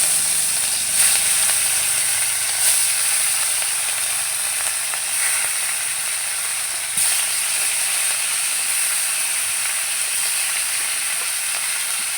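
Rohu fish rubbed with salt and turmeric fries in a hot pan, giving a loud, steady close sizzle and hiss with occasional crackles throughout.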